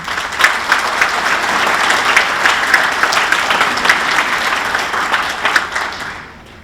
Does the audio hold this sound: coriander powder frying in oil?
no